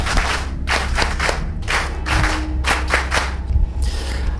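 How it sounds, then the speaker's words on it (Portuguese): Audience claps at a religious gathering, loud irregular bursts of applause with thumping hand strikes that rise and fall throughout. "Uma salva de palmas bem forte para o nosso Deus."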